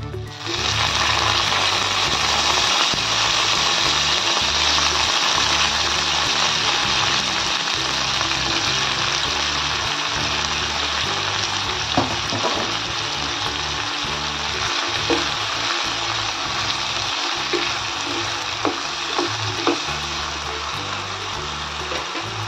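Potatoes sizzle and crackle steadily in a hot pan with chillies, a continuous close frying hiss running throughout, with occasional stirring clinks and no talking, while fasting bhagar is prepared.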